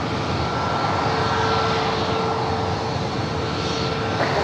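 A fixed-wing airplane approaching the runway at San Diego airport, heard as a loud, steady engine roar that fills the whole stretch without easing, with no voices over it.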